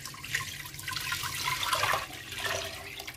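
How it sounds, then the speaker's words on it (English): Water from a half-liter measure pours and splashes into a cooking pot, a soft continuous gurgling stream with rising and falling swells, fairly quiet. "Then I will get half liter of water."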